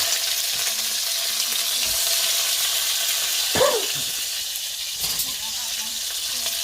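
One medium chopped onion sizzles steadily in a hot pan for boiled rice with lamb, a loud continuous frying hiss with a couple of brief clanks and scrapes partway through.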